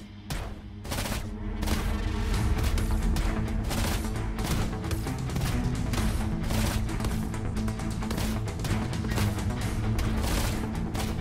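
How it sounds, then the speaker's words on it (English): Rapid bursts of video game gunfire from a character's ultimate attack in Path to Nowhere pound out dense and loud, continuous volleys with sharp cracks over heavy low rumble, nearly unbroken throughout. "It is time for Hela to release her ultimate and fire at will."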